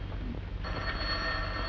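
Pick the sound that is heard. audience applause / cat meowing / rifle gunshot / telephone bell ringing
telephone bell ringing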